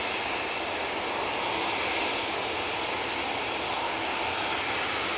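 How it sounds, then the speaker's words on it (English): EasyJet airliner passing close by at Manchester Airport, producing a continuous loud broadband jet roar that stays steady from start to finish, with no talking over it. "EasyJet coming on now, right in front of us."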